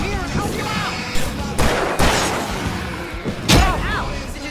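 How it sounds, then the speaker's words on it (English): Bursts of fireworks going off in the video game Alan Wake Remastered at a lighthouse farm, with several sharp booming cracks spaced through a busy battle soundscape, loud and close amid game noise. "I can set off more of the fireworks from here and help you out!"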